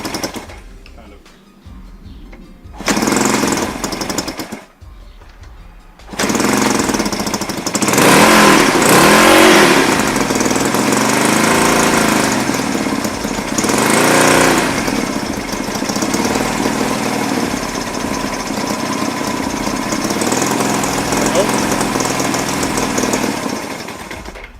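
A 1975 Honda CB200T twin-cylinder motorcycle sputters and starts, then runs loud and close with repeated revs swelling and falling over a rough idle, while people talk near the running engine.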